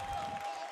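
Arena crowd at a Valorant esports final between PRX and DRX cheering and applauding, a loud, dense roar that holds steady for the whole short moment with no clear voices on top.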